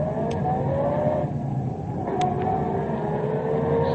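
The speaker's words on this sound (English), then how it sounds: "That car that just passed us." A car passing on a country road at night makes a steady engine rumble that swells and fades away.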